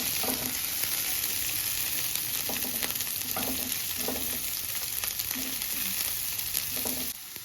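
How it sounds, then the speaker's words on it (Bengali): Green chillies and onion fry in hot oil in a pan for a Bengali-style Maggi, a steady loud sizzle throughout with soft periodic stirring scrapes, no voices. "কাঁচা লঙ্কাটা ভালো করে ভাজা হয়ে গেলে"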